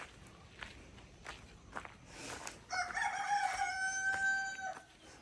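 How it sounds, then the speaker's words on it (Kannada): Roosters crow in the morning at a rural home, a long clear cock-a-doodle-doo rising over soft footsteps and faint clucking, fairly close and alone without speech. "ಕೋಳಿಗಳೆಲ್ಲ ಕೂಗಿ ಗುಡ್ ಮಾರ್ನಿಂಗ್ ಹೇಳ್ತಾ ಇದ್ದಾವೆ."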